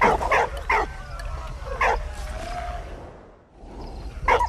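Dog barking in the video game Valiant Hearts: The Great War, several short bright yips and barks in separate bursts against a low game background, with a brief quieter stretch before a final bark.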